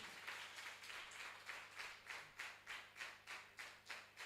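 Audience at a ceremony keeping up rhythmic clapping as a guest is invited to the high table: faint, regular unison claps at a steady beat, about two per second, over a low background hum.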